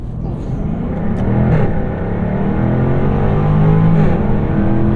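A 2023 Jaguar F-Type R Coupe launches hard under launch control, its engine roaring loudly close by with rising revs climbing through the gears, while a voice is faintly heard under the noise.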